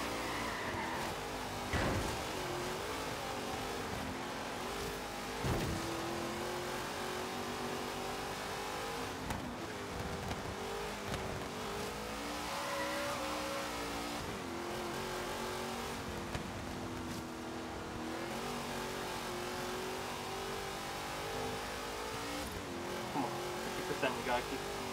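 Heavily upgraded car engine revving in Forza Horizon 3 racing, rising and falling engine pitch with tire squeals throughout, under a player talking over it.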